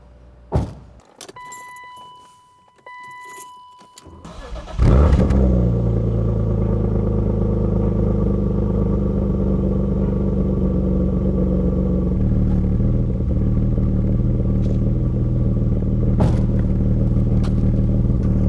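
Keys jingle and a few quiet clicks, then a BMW E36 M3 engine cranks and starts with a loud burst, settling into a deep, steady idle rumble recorded next to the exhaust.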